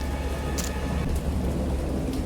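A heavy thunderstorm with steady rain pours down loudly and continuously, low rumbling thunder rolling underneath, with no voices present.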